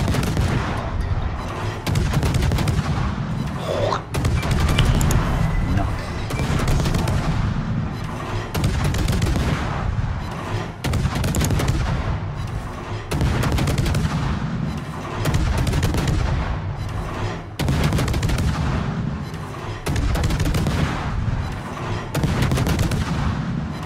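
Warship main guns fire salvo after salvo in the naval battle game World of Warships, heavy booming blasts repeating every few seconds over a dense, loud rumbling din.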